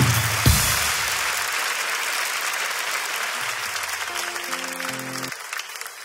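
Applause from an audience at a farewell for the seventh season of a comedy talk show, a dense steady clapping that starts with a sharp burst and holds throughout, with brief musical tones near the end.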